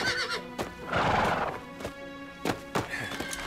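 Horses being stolen from a village in a frontier TV drama: a loud whinny rises over clip-clopping hooves and a few heavy thuds, with steady outdoor background noise.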